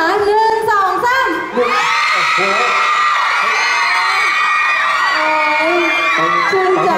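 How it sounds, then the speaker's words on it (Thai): Loud, dense crowd at a Toyota promotional event in a Phuket shopping mall screaming and cheering, high-pitched shrieks and whoops sustained for several seconds after a brief dip. "ขอเสียงกรี๊ดบ้างนะคะ"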